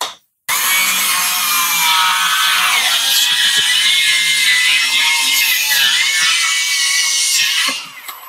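A Bosch 18V cordless circular saw makes a freehand cut through a wood plank with the blade set at a 30-degree angle. It gives a loud, steady high-pitched whine for about seven seconds, then spins down at the end.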